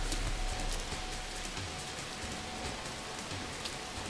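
Steady, dense rainfall in the video game No Man's Sky, hissing evenly throughout, with scattered droplet patter and no voices.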